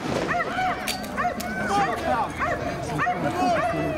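A fire brigade training dog at a bite demonstration gives repeated yelping barks and whimpers, close and loud, with people talking over it at an open day.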